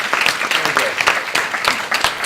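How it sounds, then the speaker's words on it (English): A hack day audience gives a last round of applause, a short, loud burst of many hands clapping close by, with a few sharper individual claps standing out. "Please give a last round of applause for the judges, the sponsors, and all of you guys"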